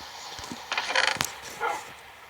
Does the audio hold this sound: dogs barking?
yes